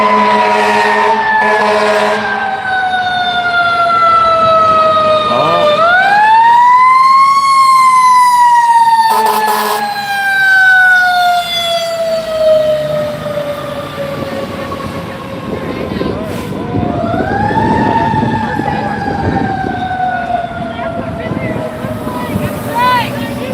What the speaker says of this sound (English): That fire truck's hauling ass.